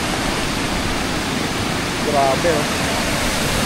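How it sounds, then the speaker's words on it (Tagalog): Pinamun-an Falls in Nagcarlan, Laguna roars as a steady, dense rush of falling water heard from above the falls, loud and continuous, with a brief exclamation from a voice over it. "Dito na ako sa itaas ng waterfalls."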